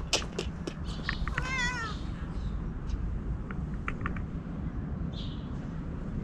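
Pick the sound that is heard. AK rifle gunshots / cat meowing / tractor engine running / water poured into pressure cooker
cat meowing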